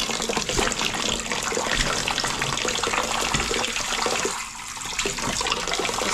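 Water splashes and churns steadily as githeri beans are washed, a continuous loud rush with a brief dip in level near the end.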